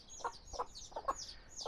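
Hens clucking near day-old chicks in a brooder, a series of short soft clucks in an irregular rhythm close by, with faint higher peeping above.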